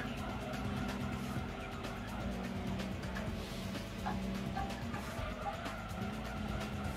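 Engines roar and tires squeal as cars jostle in a Gran Turismo 2 compact car cup race, with the player's car rammed by a rival, a loud, continuous stream of motor and skidding noise.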